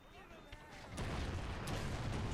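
A US artillery gun fires in the Men of War video game during an 1812-era battle: a quiet lead-in, then a heavy, rumbling blast that swells and keeps roaring, with a second crack shortly after.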